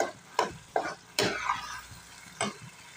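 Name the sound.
stirring mustard greens (sarson ka saag) cooking in a pan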